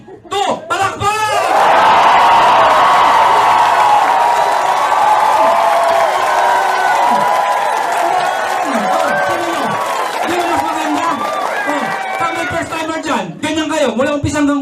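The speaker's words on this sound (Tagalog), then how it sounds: "Lahat papalakpak ha? 1, 2, palakpak!" A live audience in a crowded hall claps together on cue, a loud sustained wash of hands with cheering and whoops on top, the burst holding steady for many seconds before tapering into scattered voices.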